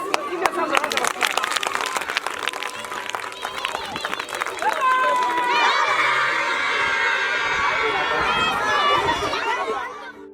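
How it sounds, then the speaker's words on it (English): Schoolchildren in Southern Kaduna, Nigeria, break into loud, sustained cheering and shouting, a dense crowd of young voices with chatter and some clapping that swells around the middle and holds until the end. "Give yourselves a round of applause."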